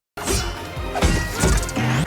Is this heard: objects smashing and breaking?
yes